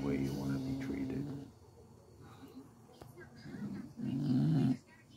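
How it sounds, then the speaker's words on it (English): A dog growls low and rumbling in two stretches, a longer one at the start and a shorter, louder one near the end, with quieter noisy moments between. "Dog right by my side."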